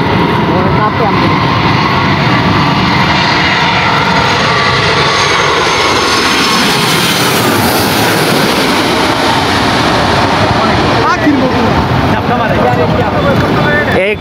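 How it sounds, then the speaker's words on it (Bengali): A large airplane's engines roar loudly and steadily, a broad sustained rumble that swells and shifts in pitch throughout, heard near an airport in Dhaka with voices talking over it. "এটা বড় বিমান।"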